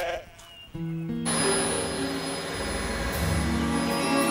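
Sheep bleating in a children's animated show, a few drawn-out bleats over a loud, steady background hum, with no talk.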